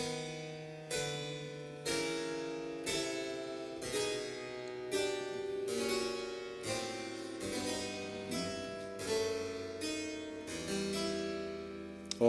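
Faux bourdon texture played in parallel chords over a bass, the upper voice a sixth above, moving in a steady series of about a dozen evenly spaced sustained chords, soft and unaccompanied by talk.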